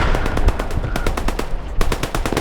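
Machine gun fire in the World War II shooter game Squad 44, a loud close sustained burst of rapid rhythmic shots with a brief pause before firing resumes.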